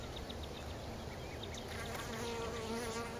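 Honey bees buzz inside an opened hive during a spring inspection, a soft, continuous hum with a rising, warbling tone toward the end; no speech.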